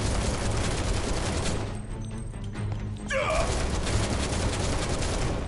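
Rapid video game gunfire from Final Fantasy VII Remake, a dense fusillade of shots that fills the clip, thins briefly in the middle, then resumes loud with a few sharp impact sounds.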